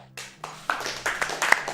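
Scattered audience clapping at a live speedrun marathon event for Jak II starts with a few separate claps, then builds into denser, louder applause close by.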